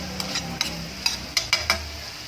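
Stirring food in a pan after sprinkling ground black pepper, with a few sharp scraping clinks of a utensil against the pan over a soft sizzle, close and alone without talk.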